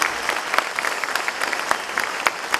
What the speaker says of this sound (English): please give a good round of applause